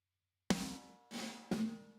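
Three separate snare drum hits, each with a crisp crack and a short ringing decay, spaced apart with nothing else playing.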